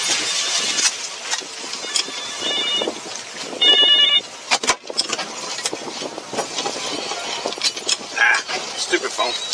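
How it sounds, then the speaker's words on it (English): A phone rings in short bursts of tonal chirps, twice in quick succession, beside a boat on the water during a marine law enforcement fish check, with voices and engine hum around it. "Ah, stupid phone."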